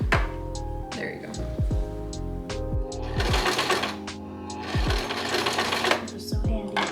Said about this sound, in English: That's how you sew a row of a blanket.